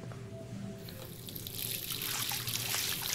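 Water gushes from a tap in the video game Life Is Strange, starting softly amid quiet background tones and then rushing loud and steady into a sink for the last couple of seconds.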